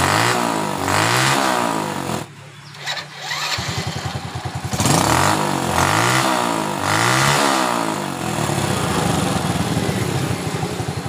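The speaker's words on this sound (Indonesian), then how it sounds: "Ini sudah bisa digas. Sudah tidak ngok lagi atau ngelagap." A Honda Supra Fit motorcycle engine is revved repeatedly up and down in close, regular surges, with a brief dip to a lower idle partway through.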